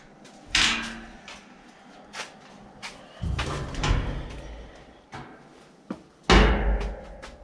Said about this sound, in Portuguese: Deixa eu abrir aqui a porta.